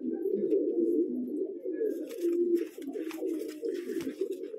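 Several pigeons kept at a home in Bijnor, Uttar Pradesh, coo nearby in an unbroken low rolling hum, joined by light rustles and wing sounds.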